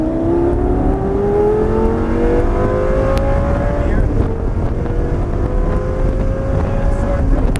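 A Lamborghini accelerates hard around an airport track at Grosse Ile, its engine note climbing steadily in pitch, loud and close with wind noise, while a voice briefly speaks over it.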